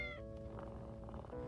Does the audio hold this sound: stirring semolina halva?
no